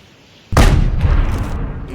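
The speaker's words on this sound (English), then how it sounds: "Not really that big of an explosion." A firework in a fireworks video game sets off one sudden, loud boom after a quiet moment, then rumbles and crackles as it fades over the next second and a half.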